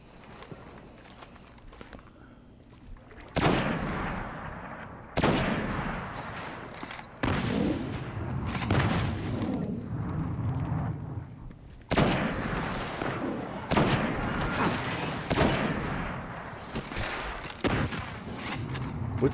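Gunfire from unseen enemies in the video game Destiny hits the player in loud, repeated bursts with short gaps between volleys, and someone talks faintly underneath.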